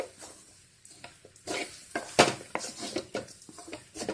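Tender jackfruit thoran is stirred in a pan with a spoon, producing close, irregular scrapes, clinks and soft patters of food against metal.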